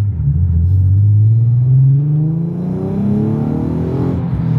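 A Nissan 370Z engine revving hard while drifting, its loud exhaust note rising steadily in pitch as it climbs through the revs, sustained and close with no talk.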